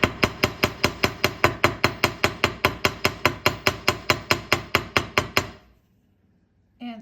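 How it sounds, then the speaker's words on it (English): A hammer strikes 24 gauge wire laid on a metal block in a quick, even series of about two dozen sharp taps, close and crisp, then stops and is followed by a brief faint sound. "Because it's 24 gauge, it needed to be hammered. So you take out your block and hammer."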